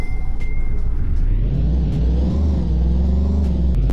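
An off-road Chevy Suburban in a Roblox driving game rumbles along with a deep, steady engine drone, loud and continuous, with a few brief clicks and ticks scattered on top.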